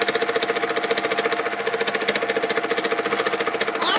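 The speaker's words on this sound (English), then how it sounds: "Let's turn you around here and let's give it a sew." A sewing machine stitching a drawstring bag runs at a fast, steady mechanical rhythm with rapid regular needle strokes, loud and close, with no voices.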